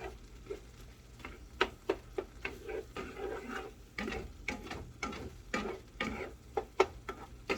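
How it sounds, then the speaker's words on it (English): Onions cooking in a pan for stuffed cabbage rolls, with a faint sizzle under repeated sharp taps and scrapes of a utensil stirring at an uneven rhythm. "It's my pan, cooking my onions."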